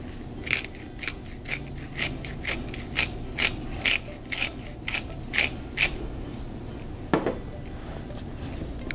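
Black pepper cracked in a hand grinder in a kitchen, giving about a dozen evenly spaced ratcheting clicks close up, followed by a single louder clack near the end.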